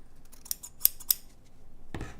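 Scissors snip ribbon for a quilted star Christmas ornament, giving three quick, crisp cuts close to the microphone in a quiet room, followed by a soft rustle.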